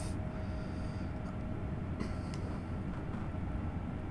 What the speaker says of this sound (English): this train just chews through the miles, the kilometers here, effortlessly